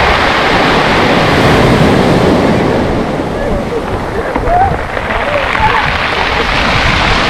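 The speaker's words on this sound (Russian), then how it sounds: "И сегодня у нас неплохие волны, с утреца пораньше." A loud, continuous roar of Black Sea surf at Lazarevskoye's central embankment, waves rushing and churning close by, mixed with wind buffeting the microphone.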